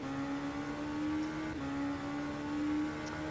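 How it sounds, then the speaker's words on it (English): Race car engine from the rFactor 2 racing simulator during a Le Mans Virtual Series 6-hour race at Spa-Francorchamps drones steadily at a fairly constant pitch, a sustained mechanical whine with a brief dip midway, no talking. "So guys, you hear engine sounds,"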